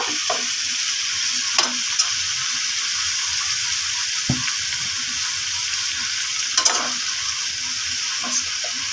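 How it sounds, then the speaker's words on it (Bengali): A sweet dish frying in a pan over a stove, a steady loud sizzle with periodic scraping strokes of a spatula stirring through it. "এবার আমরা একটু মিষ্টিটা একটু নেড়ে নেবো একটু নাড়াচাড়া করে দিব"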